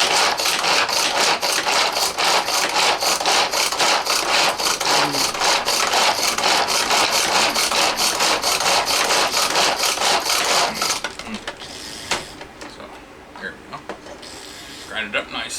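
Dog meatloaf ingredients being ground, a steady rough grinding and rasping that runs loud and continuous for about eleven seconds, then stops, leaving quieter scattered clatter.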